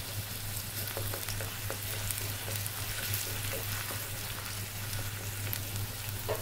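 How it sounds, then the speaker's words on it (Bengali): Onion frying in a pan in a home kitchen, a steady dense sizzle and crackle with faint stirring ticks throughout and no talking. "পেঁয়াজটাকে আমি একটু ভেজে নিচ্ছি"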